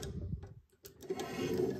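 A screw is driven into the engine of a Fast & Furious Toyota Supra model kit, giving a short run of faint small clicks and ticks, then a quiet mechanical whirring rasp.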